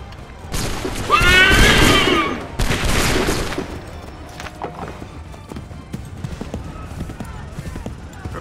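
Soldiers' musket volley in the game Assassin's Creed III, a burst of loud crackling gunfire followed by a second volley, then scattered faint shots and clatter.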